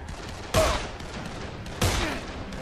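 Two heavy gunshots from the Dead Island video game, each a sharp loud blast followed by a short decaying tail, spaced over a second apart with faint background game noise between them.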